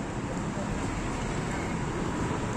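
Steady road traffic rumbling beneath the Bhara Kahu flyover on a busy road in a populated area, a continuous dense wash of passing vehicles with a low-end roar, fairly close and unbroken throughout.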